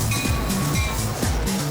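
A train rolls along the tracks behind a house that was once an 1890s railroad workers' rooming house, a steady rumbling drone with low tonal hum, fairly loud and without talk.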